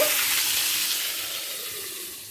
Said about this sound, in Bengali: আপনারা অল্প অল্প করে ভেজে নিতে পারেন পটলগুলো